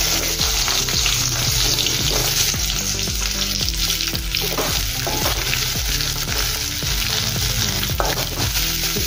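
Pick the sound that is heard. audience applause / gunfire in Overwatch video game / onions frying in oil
onions frying in oil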